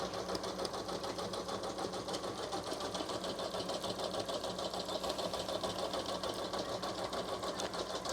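A Janome Memory Craft 1000 embroidery machine stitches at a steady rapid rhythm, a continuous mechanical whir and clatter heard close and at moderate volume without talk.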